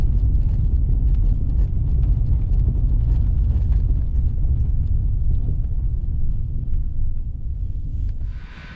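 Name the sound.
car braking on Toyo Celsius tires at 40 km/h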